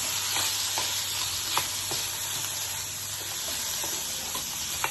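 Beans and paneer sabji with oregano is stirred in a pan, giving a close, continuous sizzle of frying with occasional soft spoon taps against the pan.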